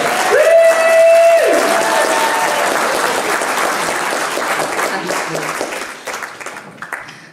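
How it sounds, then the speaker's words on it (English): A conference audience breaks into a big round of applause at a child protection event in Wales, dense clapping that starts loud and slowly thins out toward the end, with a brief tone and some murmuring underneath. "can we just do a huge round of applause for Kat, Watkins and Kim Isherwood."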